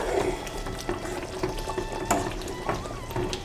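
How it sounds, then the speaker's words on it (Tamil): Kerala-style ulli theeyal, a shallot curry, simmering in a pan after the oil has separated, giving a steady soft bubbling and sizzling hiss with faint clinks throughout and no talking. "இன்னும் ஒரு 5 மினிட்ஸ் கொதிக்கட்டும்"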